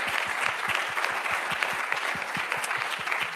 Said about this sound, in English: So a warm applause to yourself for listening for this long.